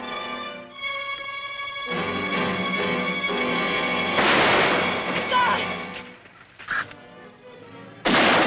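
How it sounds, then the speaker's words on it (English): A shootout in a 1957 western film brings a few sharp bursts of gunfire that cut into a sustained orchestral score, the shots loud against the music with no clear talk. "Tell the boys to wait until I fire."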